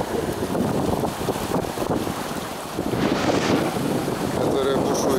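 Surf breaking on the Red Sea shore, a continuous loud roar of waves washing in, heavily buffeted by wind noise on the microphone, with a voice briefly audible.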